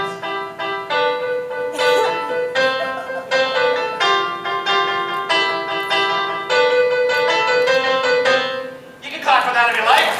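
Piano played by a self-described non-pianist in an improvised piece, with sustained chords and single notes that ring out in a slow, uneven rhythm, close and fairly loud, and a brief burst of other noise at the very end.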